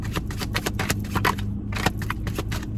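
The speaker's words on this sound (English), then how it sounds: "All right, let's give it a nice little shuffle." Tarot cards being shuffled by hand, a run of quick papery riffles and flicks close by, with a steady low hum underneath and no talking.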